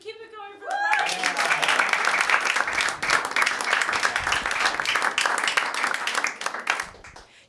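Comedy club crowd bursting into applause after a speaker's brief words, a dense, sustained roar of clapping that holds steady for several seconds before tapering at the end.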